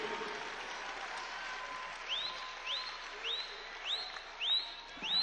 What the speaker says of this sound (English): Gets a nice round of applause as he comes out of the game.